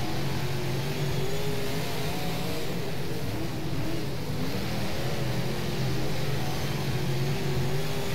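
Modified race car engines droning continuously at Eagle Raceway in rFactor, a steady buzzing roar with slight rises and falls in pitch as cars circle the oval, no talk.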